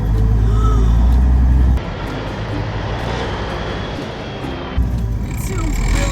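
A 1984 Peterbilt 359 truck rolls off under its own power, the engine roaring loud and close, settling into a steady drone before revving again after a gear change.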